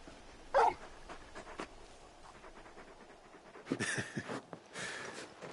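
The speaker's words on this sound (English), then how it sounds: "You're just a big puppy, aren't you? A very big puppy." A large dog in the Final Fantasy 16 video game whimpers and pants softly, with a louder yelp near the start and breathy panting and snuffling bursts later, fairly close and without talk.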